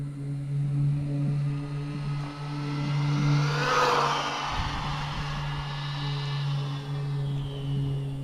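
A car on a 100+ mph speed run along a road accelerates hard, the engine note climbing in pitch and swelling to a loud peak before easing back, with a steady droning hum throughout and no talking.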